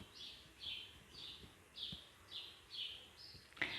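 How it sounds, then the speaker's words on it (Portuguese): Small birds chirping in a backyard in a repeated series of short, high tweets, about seven calls in a steady rhythm, faint against a quiet outdoor background. "São os passarinhos que ficam aqui no quintal"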